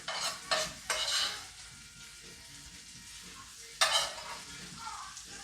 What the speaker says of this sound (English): Got beautiful color, a great sounding sizzle.